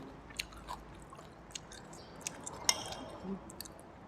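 Crispy pork stir-fried with holy basil is chewed close by, with soft, faint crunches and wet bites repeating at an irregular pace, one sharper crunch standing out midway.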